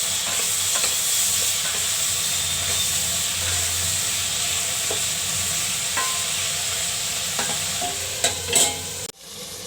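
Potato and brinjal curry sizzles and fries steadily in a pan while it is stirred, with faint occasional scrapes over a constant hiss, close by, and no speech.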